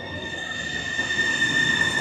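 A passenger train runs from Switzerland into Italy toward Monza and Milan, with steady, sustained high wheel squeal ringing over a low rolling rumble, heard from close by.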